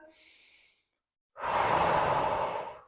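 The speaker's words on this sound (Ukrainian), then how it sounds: "видих через рот" Breathing during postpartum pelvic floor exercises: a faint short nasal inhale, a pause, then a long, loud, close breathy exhale through the mouth, with no talk.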